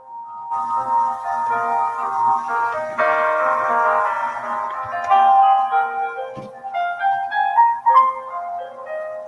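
A tinkling, chime-like melody plays at moderate volume, with notes rising and falling in a simple tune that sounds a bit like a music box.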